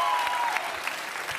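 An audience at a Greek TV variety show claps steadily, a dense sustained patter of many hands at close range with no break, and a brief voice lingers faintly at the very start.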